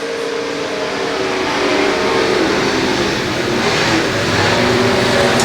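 Race cars on a dirt oval at Los Angeles Raceway roaring down the front straight at speed, a loud, continuous engine drone swelling steadily as the pack passes close by.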